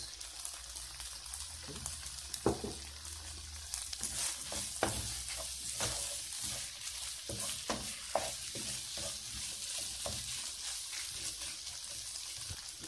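Potatoes stuffed with chicken frying in oil, heard as a continuous fine crackle and bubbling sizzle at low volume, with occasional louder pops and spits scattered throughout.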